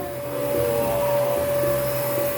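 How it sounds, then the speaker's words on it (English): A child pushes a household vacuum cleaner to suck up a cinnamon roll mess, a steady close whine with a constant motor tone and a low rumble underneath, running the whole time without talk. "He's got a death grip on the vacuum."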